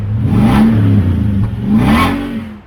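A Toyota Sequoia V8 fitted with the optional TRD exhaust revs loudly up close, rising and falling twice with a deep, throaty burble between revs.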